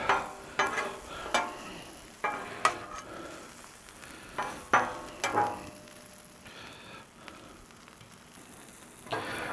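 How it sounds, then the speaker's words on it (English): Shrimp searing on a Blackstone griddle while being stirred, giving a steady sizzle broken by a series of sharp spatula scrapes and clacks, close and fairly loud, with no talking. "Let's give the shrimp a good stir here."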